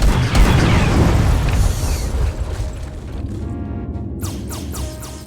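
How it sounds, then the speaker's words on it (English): Torpedo strikes from a small torpedo boat in Treasure Planet: Battle at Procyon, a heavy booming crash with rumbling debris that fades into lighter mechanical clanks and rattles. "Try to get as many torpedo strikes as you can in 2 minutes."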